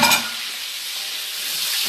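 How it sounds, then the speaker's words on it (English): Peppers sizzle and fry in a hot pan, a steady close hiss with a brief stirring rustle at the start, no voices. "so I'm just going to let it fry"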